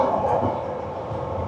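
A London Underground Bakerloo line train rumbles steadily and loudly from close by, with a broad, constant roar and no clear talk.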